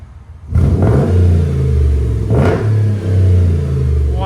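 A 2013 Mercedes G550 with a 5.5L V8 and Flowmaster Flow FX true dual exhaust fires up and revs hard, a loud close deep rumble surging twice and dipping briefly between pulls.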